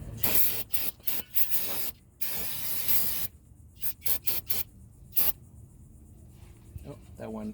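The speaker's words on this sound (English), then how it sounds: "I got a fresh can of brake clean here again" Brake cleaner sprays from an aerosol can onto parts of a 2013 Ford Taurus SEL during an oil change, a string of sharp, loud hissing bursts of varying length, close up, with a voice speaking between them.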